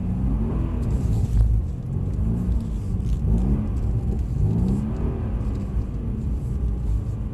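A Mercedes-Benz car on a driving track gives a steady, close engine rumble that stays even, with the vehicle under power throughout and no voices.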